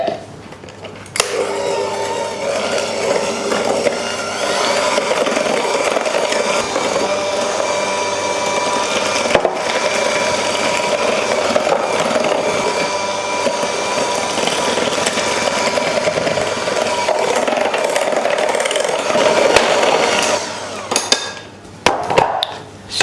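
An electric mixer beats eggs into butter and sugar for a gluten-free coffee and walnut cake, a loud, steady motor whir with rattling from the bowl that runs for about twenty seconds before stopping.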